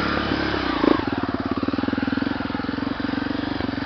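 Tornado 300cc motorcycle with an aftermarket exhaust struggles on a climb, its engine chugging in a steady rapid rhythm as the rear wheel slips, loud and close.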